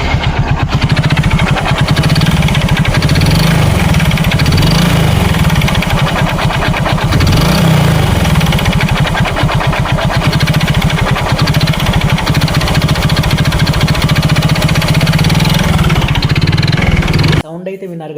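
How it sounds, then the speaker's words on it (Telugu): A Hero Glamour motorcycle engine under restoration fires up and runs with a loud, close, rattling knock from a worn crank, throbbing steadily for a long stretch before cutting off abruptly near the end. "ఈ బైక్ అయితే నేను స్టార్ట్ చేస్తా, ఒకసారి సౌండ్ అయితే మీరు క్లారిటీగా వినండి."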